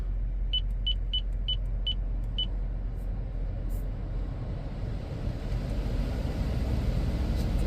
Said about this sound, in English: Hear the air coming on nice and strong.